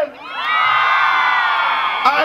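Loud sustained shouting and whooping from women in a rodeo crowd at a jaripeo, a dense high-pitched collective yell lasting about two seconds before cutting off.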